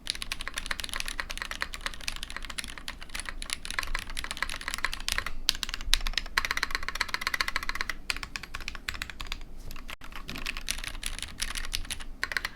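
Steady typing on a prototype ZoomTKL Dyna mechanical keyboard in its top-mount configuration, a dense, continuous run of close, crisp keystrokes with no pauses or voices.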